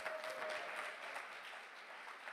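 Audience applause at a climate conference session, a steady, moderately faint patter of clapping sustained throughout without voices.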